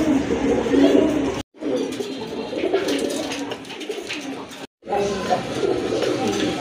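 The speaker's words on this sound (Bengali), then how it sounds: "আরেক জোড়া কবুতর, ব্ল্যাক শার্টেন ব্ল্যাক গোল্ডা কবুতর" Black satin pigeons coo in repeated throaty bursts, close and loud, broken by two short gaps, while someone talks over them at a pigeon sale.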